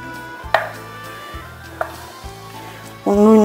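Knife chopping on a board in a home kitchen preparing a traditional dessert: three sharp, spaced single chops, then a louder run of rapid cuts at the end.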